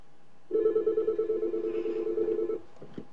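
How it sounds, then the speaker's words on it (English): A telephone ringback tone from an outgoing call during a live broadcast: one steady, close, moderately loud ring lasting about two seconds with a slight pulsing warble, then a faint click. "Let me try to call him on the phone"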